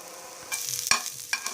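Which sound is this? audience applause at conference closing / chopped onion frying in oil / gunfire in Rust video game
chopped onion frying in oil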